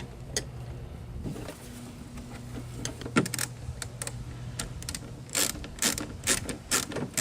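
A ratchet working a bolt on the rear door of a 2007 Cadillac CTS, with quick clicking pawl strokes in irregular bursts, close and crisp, among metallic handling noises and a faint low hum.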